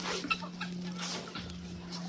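Chickens clucking nearby in short, irregular bursts over a steady electrical hum.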